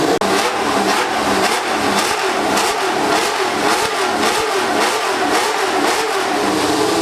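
Racing car engines at Goodwood, several started together and revving, a loud continuous roar with rhythmic surging throttle blips layered close and dense throughout.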